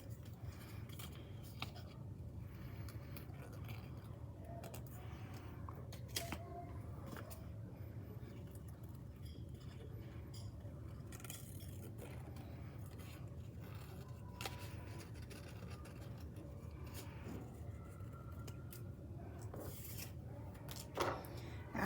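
Scissors snip out paper eyes for a craft pumpkin, faint scattered cuts and rustling paper over a steady low room hum, with no talking.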